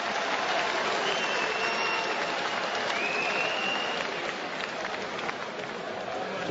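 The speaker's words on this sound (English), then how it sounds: "Crowd like that one." Boxing crowd at a heavyweight bout between Derek Chisora and Edmund Gerber applauding a big round, a steady wash of clapping and cheering throughout, fairly distant and even, with no clear speech.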